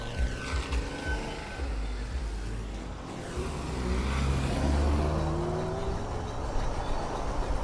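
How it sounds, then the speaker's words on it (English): A car passes on a road, approaching and swelling into a broad whoosh of tires and engine that peaks midway and then fades, heard from a stopped electric bike at a stop sign. "Wait for this car."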